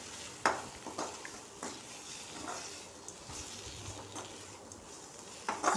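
Brinjal fry being stirred in a pan, a soft steady sizzle broken by a few scraping strokes of the spoon, close and fairly quiet, with no talk.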